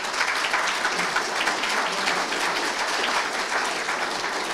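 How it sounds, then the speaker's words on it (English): Steady applause from a seated audience at a local council candidates' debate, dense clapping sustained throughout at moderate loudness with no talk over it. "big round of applause for our fantastic candidates"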